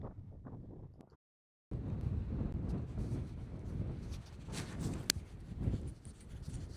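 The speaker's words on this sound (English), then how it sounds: "That wind is sure picking up." Wind gusts across open ground at Meteor Crater, Arizona, a steady low rumble buffeting the microphone after a brief silent gap near the start, swelling louder toward the end.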